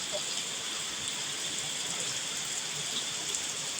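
Dense, continuous downpour hissing steadily without letup, a heavy rain beating on surfaces nearby.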